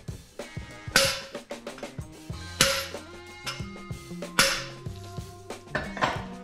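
A series of sharp metallic clanks and rings as a chunk of lead strikes a KRASH KV997 crankshaft, struck irregularly at close range, each blow leaving a brief ringing tone behind it.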